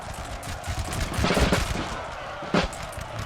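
Musket volleys crackle across a Napoleonic Total War battle, with bursts of massed gunfire swelling and a sharp volley near the end, over a dense battlefield background.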